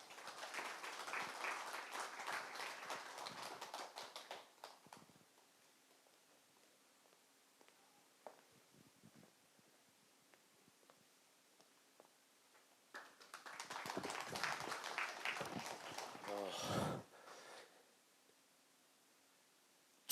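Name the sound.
audience applause welcoming a speaker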